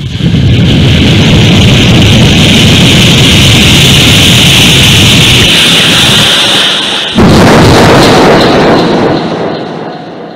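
A stand-up comedian imitates a missile launch with his throat, a loud, sustained roaring rush that surges again after a brief break, the voice playing the whoosh of the rocket.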